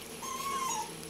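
A pet dog, a picky eater named Pandoy, whimpers softly in one brief, thin, high-pitched whine close by.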